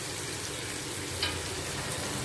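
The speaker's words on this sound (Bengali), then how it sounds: "পেঁয়াজগুলোকে ভালো করে ভাজতে হবে, একটু লাল লাল করে ভালো করে ভাজতে হবে।" Onions fry in oil in a pan, a steady, dense sizzle that holds evenly throughout with a brief faint clink near the middle, close to the pan and with no talking.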